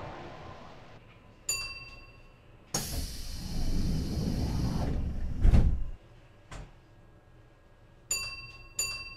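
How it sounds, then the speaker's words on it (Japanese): Train doors sliding shut with a long rushing slide and a solid thud, framed by short electronic beeps before and after in a quiet carriage. "扉が閉まります。"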